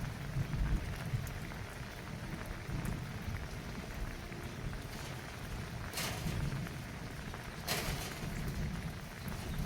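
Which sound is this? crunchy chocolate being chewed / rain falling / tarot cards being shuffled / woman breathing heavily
rain falling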